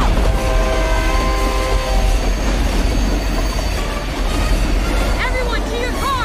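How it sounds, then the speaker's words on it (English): A speeding train in the video game Fast & Furious Crossroads rumbles loud and steady throughout, with clattering wheels and squealing metal tones, and voices briefly heard over it. "How are we supposed to catch a speeding train?"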